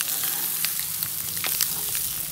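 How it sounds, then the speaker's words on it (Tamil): Egg pepper masala is stir-fried in a pan with freshly added pepper, giving a continuous close sizzle with light scraping stirs scattered through it. "ஆட் பண்ணிட்டு ஒரு 30 செகண்ட்ஸ்க்கு மட்டும் லைட்டாக இதை நம்ம பரட்டி எடுத்துக்கலாம்"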